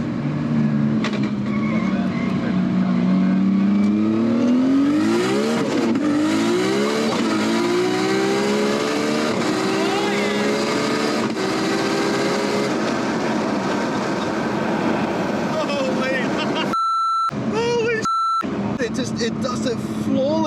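An R32 Skyline GT-R with an RB32 engine and Garrett G45-1500 turbo, tuned to about 1,000 horsepower, accelerates hard with a loud rising engine wail through several gear changes, heard from inside the car; people talk over it, and sharp electronic beeps sound near the end.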